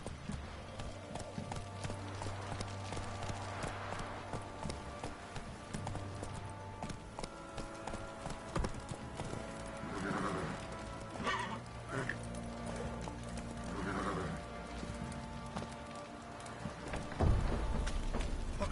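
Roach, a horse in The Witcher 3: Wild Hunt, clip-clops and gallops across the ground and neighs a few times, with rain falling and a voice talking over the game.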